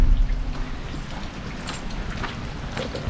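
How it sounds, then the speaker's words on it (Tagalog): Heavy rain pours down steadily and close by, a dense, continuous hiss of drops drumming on surfaces, with no voices heard. "Medyo malakas yung ulan mga ka-Berks."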